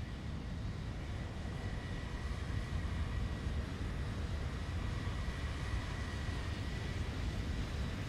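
A Zibo 737 jet in X-Plane roars past in a steady, broadband rush, its engine noise holding at a constant level throughout with no talk.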